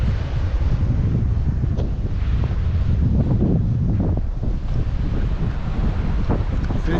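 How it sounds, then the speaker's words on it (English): Strong wind gusts buffet the microphone beside water on a fishing outing, a loud, steady roar with rumbling bursts and a faint wash of waves underneath. "Oh, it's windy over here."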